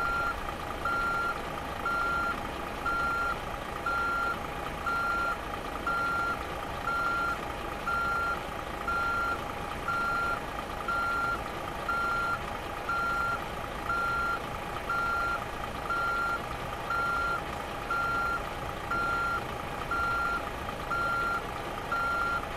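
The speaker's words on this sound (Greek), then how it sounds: "Τι όπισθεν, τι αέρας από τα φρένα" Truck reversing alarm in Euro Truck Simulator 2, beeping at a steady rhythm throughout over a constant idling engine hum, with faint air brake hiss in the background.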